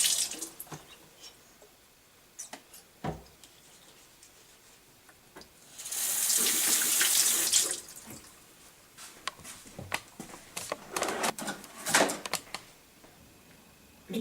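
Tap water runs over a lemon at a kitchen sink, with a steady splashing burst in the middle and scattered drips, knocks and handling noises around it, fairly faint and close, with no talk.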